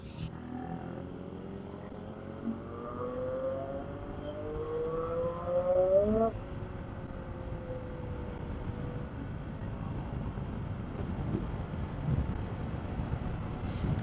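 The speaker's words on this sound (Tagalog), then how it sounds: "pakinggan nyo yung tunog ng big bike kasi babakbak dito si Cap" A Yamaha MT-09 big bike accelerates on an open road, its engine rising in pitch through a gear before an abrupt shift, then settling into a rumbling drone with wind rush; moderately loud and heard from nearby.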